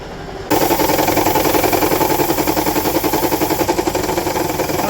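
A Toyota Estima hybrid 2AZ-FXE engine idles with a misfire and shakes hard. After a brief quiet start, a loud, steady mechanical drone with an uneven, pulsing beat continues to the end.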